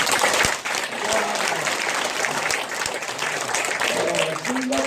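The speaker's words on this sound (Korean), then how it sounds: "이건 정말 박수 쳐야 됩니다" Dense, loud applause from an audience at a gathering of political parties and civic groups, sustained clapping throughout with some voices faintly mixed in.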